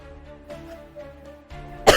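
A person coughs once, loud and close, in a short sharp burst at the very end, following a stretch of quiet room tone with faint tonal hum from a tabletop game session.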